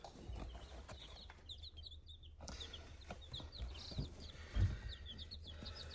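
Week-old chicks and ducklings in a brooder, many soft high peeps scattered irregularly over a low background hum, fairly faint and close, with no voices.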